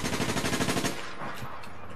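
Rapid automatic gunfire from APB Reloaded, a tight burst of repeated shots lasting about a second, loud and close, then cutting off into a quieter game background with no voices.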